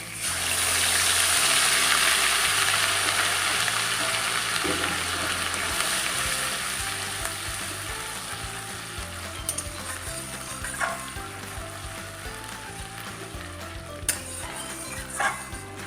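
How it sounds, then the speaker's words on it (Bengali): Onion paste fries over raised heat in a pan already holding cloves and crushed cardamom, for Bengali-style paneer masala. A loud, dense sizzle gradually softens, with occasional sharp clicks of a stirring utensil toward the end. "আঁচ বাড়িয়ে পেঁয়াজটাকে ভালো করে ভেজে নেব।"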